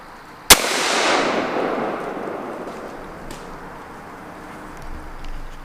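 A single sharp gunshot rings out during a squirrel hunt in the woods, loud and close, its report decaying into a long outdoor echo over several seconds with no talking.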